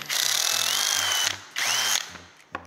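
A power drill whirs loudly in reverse, backing a screw out of wood in two sustained bursts with a brief pause between them, then a short final blip as the screw comes free.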